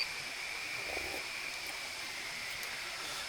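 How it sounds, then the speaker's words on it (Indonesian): The Bukit Maras waterfall in Bangka Belitung rushes faintly and steadily at night, a soft distant wash of falling water with a thin layer of high insect-like tones above it and no talking. "Suara air terjunnya memberikan terapi di malam ini."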